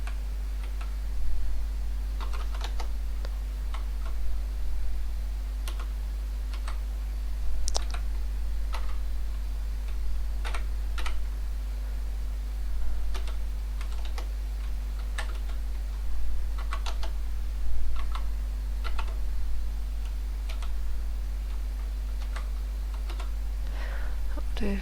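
Keys clack on a Maltron one-handed keyboard in irregular, hesitant bursts and single taps over a low steady hum, close and fairly quiet with no talking.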